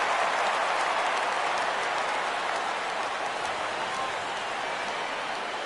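A stadium crowd in MLB 17 The Show cheers in a steady, dense wash of noise that holds throughout at a moderate level, rising as the count goes full.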